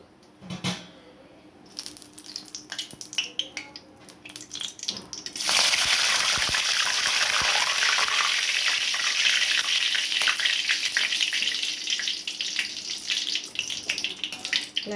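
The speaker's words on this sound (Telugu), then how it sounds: "ఇలా వేపేసుకుంటే సరిపోతుంది అండి కొంచెం కరివేపాకు" Peanuts and curry leaves frying in hot oil in a home kitchen: after some quieter clatter and stirring, a loud, steady sizzle bursts in and crackles on without a break until the end.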